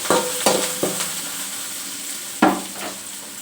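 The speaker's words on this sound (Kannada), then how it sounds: "ಇವಾಗ ಮೊಟ್ಟೆ ಇದಕ್ಕೆ ಹಾಕಿ ಚೆನ್ನಾಗಿ ಹುರಿಬೇಕು." Eggs for egg palya fry in a pan under a continuous sizzle, broken by several sharp spatula clacks and scrapes against the pan, close and fairly loud.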